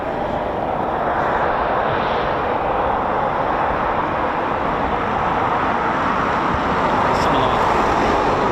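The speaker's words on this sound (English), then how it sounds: "Typhoon's climb rate is pretty impressive" A Eurofighter Typhoon FGR4 jet climbs away at an RAF airfield, its broad, steady roar filling the air loudly and continuously with a slight swell toward the end, no voices over it.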